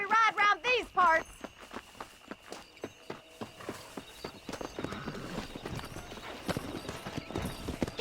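Horse hooves clip-clop at a steady walking rhythm in Red Dead Redemption, fairly close and continuous, with a horse's whinny near the start and faint talk mixed in.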